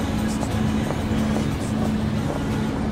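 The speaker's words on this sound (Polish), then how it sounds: "Silnik pięknie pracuje." A steady engine idles nearby with a constant low hum and faint rumble, continuous and even for the whole stretch, with no talking.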